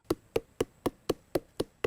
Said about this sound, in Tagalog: Para mas mabilis na lumabas ang katas, pinupukpok niya ang parteng ito ng puno.